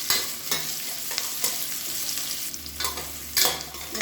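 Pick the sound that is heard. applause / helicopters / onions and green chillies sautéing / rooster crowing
onions and green chillies sautéing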